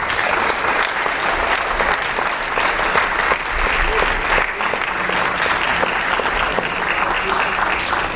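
Loud, sustained applause from the audience at a county board of education meeting, a dense wash of clapping hands that carries evenly from start to finish.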